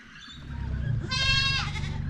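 Goat bleating up close outdoors, one loud drawn-out wavering bleat over steady low background rumble, with no talking.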